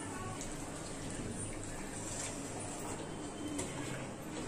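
Hot water poured from a rinsed mixer jar into a pan of curry masala for a paneer dish, a steady, continuous watery splash and gurgle that runs evenly at moderate volume throughout.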